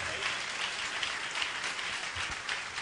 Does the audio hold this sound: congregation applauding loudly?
yes